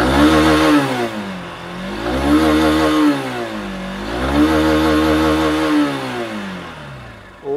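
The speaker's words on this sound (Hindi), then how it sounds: "अब चलिए एक बार इस गाड़ी का एग्जॉस्ट साउंड भी आपको हम चेकआउट" A Honda 160cc four-stroke single-cylinder motorcycle exhaust is revved repeatedly, loud and close, its throttle rising and falling in three swelling pulls with an idle burble between.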